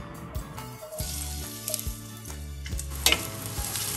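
Onions hit hot olive oil in a pan and crackle into a steady sizzle close by, with a few clinks and scraping noises on top.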